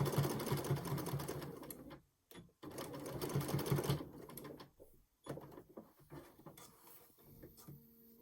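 A sewing machine stitches a fabric face mask in rapid rattling bursts, stopping briefly and then running again as it back tacks, and ends with a few quieter clicks and handling noises.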